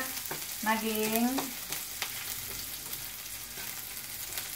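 Chopped onion sautéing in a hot pan, a steady close sizzle and frying hiss with stirring, while a voice speaks briefly near the start.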